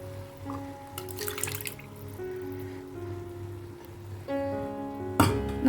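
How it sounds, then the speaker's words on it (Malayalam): Water poured into a pot of Thalassery beef curry for erachi chor pulav, a steady close pouring and trickling with faint drips, no talking, and a louder splash near the end. "ഞാൻ 6 കപ്പ് വെള്ളം ഒഴിച്ചു കൊടുക്കണം"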